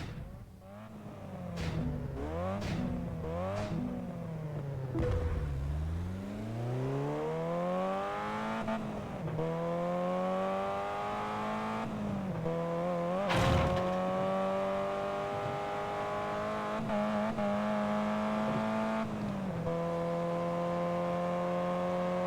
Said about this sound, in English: The engines are heating up on the starting line.